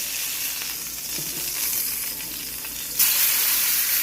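Fish skin frying in a pan, a loud, even sizzle that holds steady, then jumps brighter and louder for the last second, with no talking.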